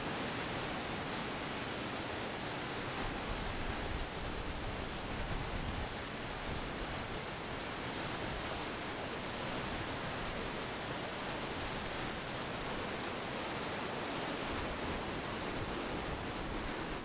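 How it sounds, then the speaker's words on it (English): A waterfall roars at the bottom of a steep, stepped trail in New Hampshire, in windy, misty conditions: a loud, steady, unbroken wash of rushing water with no voices over it. "My, that waterfall is roaring."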